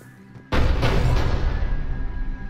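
A ship's cannon firing in Mass Effect 3, one sudden heavy boom that rolls into a long, loud rumbling decay.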